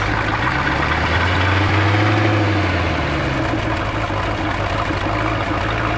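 A Tahoe boat engine runs steadily in reverse gear, a loud, close, continuous low rumbling drone with a slight pitch swell partway through and no voices.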